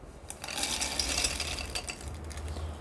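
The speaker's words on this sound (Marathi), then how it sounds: "आता हे आपण जाडसर हे वाटून घेऊ।" Roasted peanuts are ground coarsely in a kitchen grinder, a continuous close mechanical whir and rattle for a few seconds without pause.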